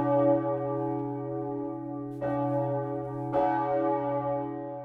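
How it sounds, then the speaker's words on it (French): Church bells in the tower of the collegiate church at Romont, Fribourg, Switzerland, recently renovated with new ringing equipment, peal loudly with a sustained humming resonance, and fresh strikes swell the ringing twice, without any talk. "Les cloches sont à deux doigts de redonner de la voix avec leur nouvel équipement."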